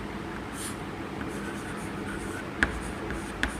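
Handwriting with pen or pencil on paper, a continuous soft scratching of strokes with two sharper taps near the end, close and fairly faint.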